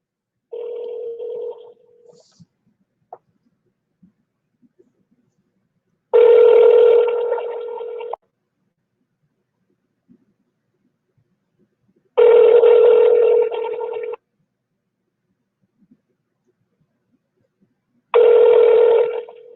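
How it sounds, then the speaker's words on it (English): A phone call being placed: a short dialing tone burst, then three evenly spaced ringback tones, each about two seconds long, separated by roughly four seconds of near silence, clear and close. "I'm going to give him a call right now."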